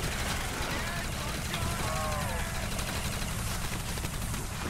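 Continuous automatic gunfire fills a zombie shooter game, a dense unbroken rattle of shots at steady volume with faint voices mixed underneath.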